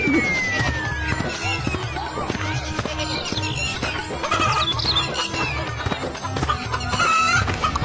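Two big hens bought at a village market cluck and squawk repeatedly, close and loud, with a rooster crow rising partway through over an outdoor background.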